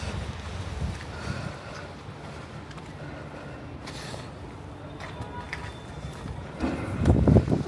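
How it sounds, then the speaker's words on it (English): Wind gusts sweep a snowy Upper West Side street in New York City with a broad, rushing noise over the microphone. Faint street sounds lie underneath, and a stronger buffeting gust hits near the end. "Oh, the wind is picking up."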